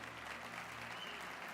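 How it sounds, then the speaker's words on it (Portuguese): A church congregation applauds during a sermon, a steady, soft wash of clapping heard at a distance, fairly quiet and continuous with a low hum underneath. "Você pode aplaudir o nome do Senhor Jesus?"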